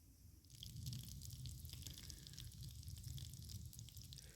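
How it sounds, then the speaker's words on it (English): Hot fat draining from meat cooking in an emergency breakdown kit pan on an overnight trip, a steady close sizzle with dripping and crackling, low rumbling underneath. "so I'm just draining all that fat off"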